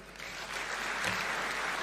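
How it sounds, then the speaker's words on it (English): An audience applauding after a speech at an Africa fertiliser and soil health event, a continuous wash of distant, faint clapping from a crowd, steady across the whole stretch. "Let's give him a warm thank you clap."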